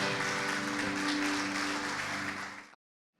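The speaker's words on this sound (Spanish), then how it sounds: "Le damos un aplauso al Señor esta mañana." Churchgoers at a Sunday morning service applaud in praise, a thick wash of many hands clapping over sustained music underneath, holding steady and then cutting off abruptly.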